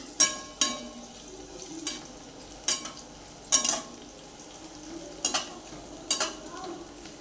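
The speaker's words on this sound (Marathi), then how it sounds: "हे मसाले आपण एखादा मिनिटभर परतून घ्यायचे" Whole cloves, cinnamon and shahjeera sautéing in oil in a pan for pulav, with a soft steady sizzle and about eight sharp scraping stirs of a spatula at irregular intervals.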